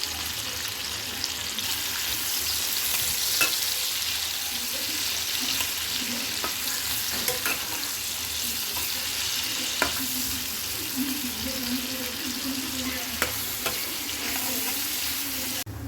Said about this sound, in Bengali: মাছ ভাজার তেলেতেই আমি এবার পেঁয়াজগুলো দিয়ে দিলাম।